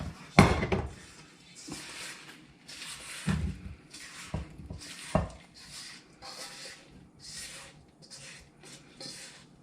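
Strawberry rhubarb mixture goes from a bowl into a saucepan in a series of close clattering scrapes and knocks of utensil on cookware, irregular and fairly quiet.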